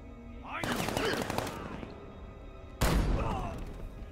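Gunfire in the video game Batman Arkham Knight, two sharp broadband blasts about two seconds apart, each trailing into a noisy decay, loud against a busy game soundscape.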